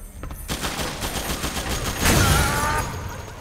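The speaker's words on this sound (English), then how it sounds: "I have to shoot the missiles, huh?" Rapid automatic gunfire from Metal Gear Solid 4 as a player shoots down incoming missiles: a dense, loud burst of shots swelling into a heavier blast near the middle, with no talking.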